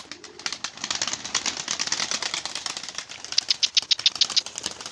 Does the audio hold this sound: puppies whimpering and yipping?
no